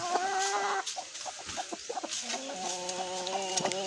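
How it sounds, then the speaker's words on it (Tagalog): Backyard chickens clucking and calling close by, a steady stream of short overlapping clucks with a few longer drawn-out calls, with no talking. "napakagandang manok"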